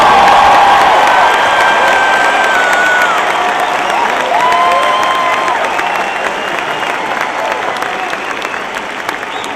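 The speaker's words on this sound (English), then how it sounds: "I want everybody to give a big round of applause to Congressman Raul Grijalva." A large political rally crowd in Phoenix applauds and cheers for Congressman Raul Grijalva, a loud, dense roar of clapping and whoops that holds throughout and slowly eases off.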